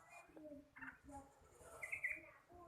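A young spotted dove (trucuk) around ten months old gives soft, short cooing notes in a halting sequence over under three seconds. The calls are faint and close, with no talk.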